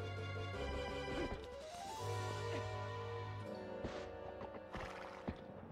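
A horse neighs in Zelda: Twilight Princess HD, a clear whinny rising over game music, with a few hoof clops and effects around it, no talking.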